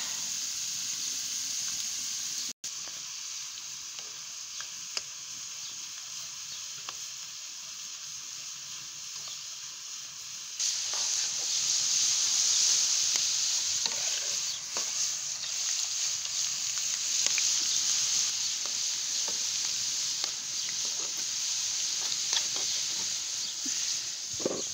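Fish marinated in chermoula frying in a pan, a steady close hiss and sizzle that swells louder halfway through, with small crackles and pops and no talking.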